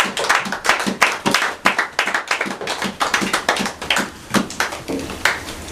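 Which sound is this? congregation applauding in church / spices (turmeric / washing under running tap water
congregation applauding in church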